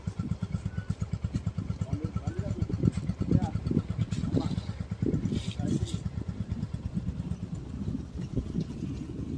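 A Royal Enfield Bullet motorcycle thumps along with a fast, steady low-pitched beat while being ridden outdoors, and someone talks excitedly over the engine throughout.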